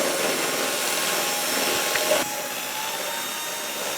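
A continuous whirring drill mixer churning a coating, steady and fairly close with no voices.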